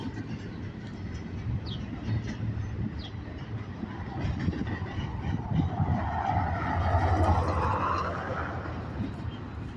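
Long freight train rolling past a Home Depot, a continuous rumbling roar of wagons with grinding, screeching wheel noise swelling toward the end, heard fairly close with a brief voice underneath.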